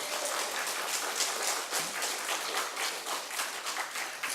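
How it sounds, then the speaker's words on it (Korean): A church congregation claps together during a Sunday sermon at Sungmin Church, fairly soft, sustained applause with a loose rhythm and no speech over it. "박수를 한번 믿는 만큼 쳐봐요."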